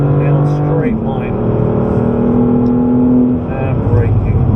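Close, loud engine of a BMW M3 pulling hard down the Goodwood straight, pitch rising through a gear change, with a person talking over the steady drone.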